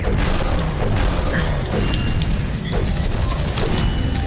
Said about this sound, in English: I'm destroying giant mechs with a giant Clank.